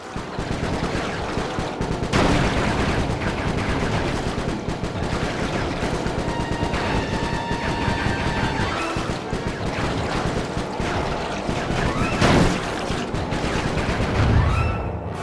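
Gunfire in the Sly Cooper 3 video game, a dense, continuous barrage of shots and impacts with a few louder crashes, mixed with game sound effects and no clear talk.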